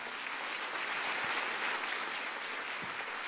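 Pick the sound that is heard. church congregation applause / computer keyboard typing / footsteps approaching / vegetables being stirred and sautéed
church congregation applause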